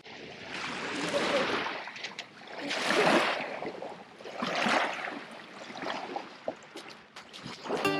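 Paddling a dinghy through water, with three broad swells of splashing and swishing strokes spaced about every couple of seconds, then smaller trickles and drips toward the end.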